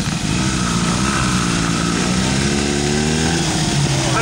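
A vintage Scott motorcycle engine runs steadily at a parade, a continuous buzzing two-stroke drone held close and loud, its pitch wavering slightly as it idles and revs.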